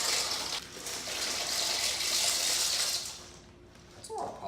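A load of pasta is tipped into a pot of heavily boiling water, giving a loud rushing, splashing gush that swells and then thins out, with a brief clatter near the end and no talk.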